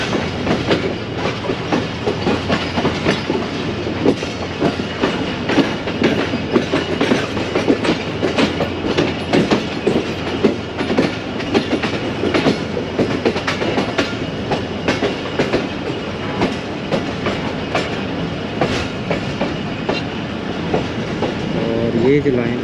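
A Pakistan Railways 14DN Awam Express train runs between Gujar Khan and Wazirabad Junction, its wheels keeping up a steady rhythmic clickety-clack over the rail joints, loud and close from on board, with faint voices now and then.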